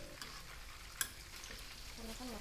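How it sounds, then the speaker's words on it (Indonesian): Salted fish fries briefly in a pan, hissing and sizzling steadily up close, with a sharp stir or scrape of a utensil in the middle and light crackles toward the end. "Gorengnya cuma sebentar doang."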